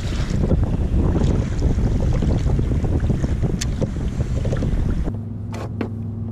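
Strong wind roars across a lake, buffeting the microphone around a kayak, with a steady gusty rush and low rumble throughout that drops away abruptly near the end, leaving a quieter hum.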